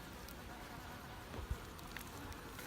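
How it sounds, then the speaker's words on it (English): Honey bees from a newly installed package hum in a faint, steady buzz at the hive during a first inspection, with a couple of soft knocks in the background. "And there's some bees."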